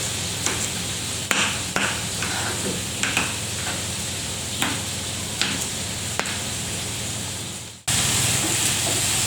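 Chicken pieces sizzle steadily in a hot pan while they are turned, with repeated scrapes and clacks of a utensil over the constant frying hiss, ending in a sudden louder burst of sizzle.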